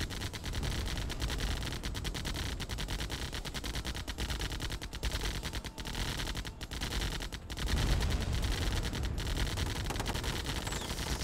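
Buggies in a Heavy Metal match hammer a target with sustained rapid machine-gun fire, loud and relentless, with sharp louder bursts breaking through the steady rattle.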